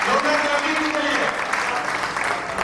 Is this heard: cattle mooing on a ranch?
no